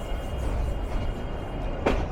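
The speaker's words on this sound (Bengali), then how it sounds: "যাত্রা বিরতি সম্পূর্ণ করে কুলিয়ারচর ছাড়ছে" The Egarosindhur Provati Express pulls out of Kuliarchar station after its stop, a dense, steady rumble of wheels and carriages running close throughout, with a brief higher hiss near the end.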